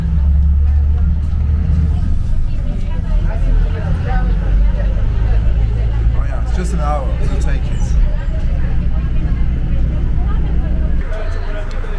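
Interior of a moving bus in Ecuador: a loud, constant low engine and road rumble fills the cabin while passengers talk and chatter nearby over the drone.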